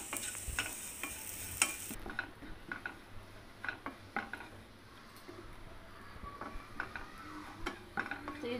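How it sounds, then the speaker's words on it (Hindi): Leftover-roti halwa stirred continuously in a pan, giving repeated light scraping ticks and clinks of the spoon against metal over a faint sizzle, close and quiet, with no talking. "तो इसको हम लगातार चलाते रहेंगे।"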